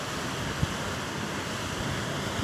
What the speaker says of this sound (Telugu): చూడండి వాటర్ చూడండి అసలు ఎంత ఫోర్స్ వస్తున్నాయో.